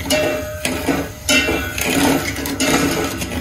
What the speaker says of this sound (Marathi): तर याला चमच्याने मी सारखं ढवळून घेत राहणार आहे